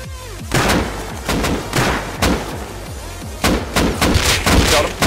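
Rapid bursts of gunfire in the survival game Rust, including M249 machine gun fire, crack out in clustered volleys over a steady background, with faint voices mixed in.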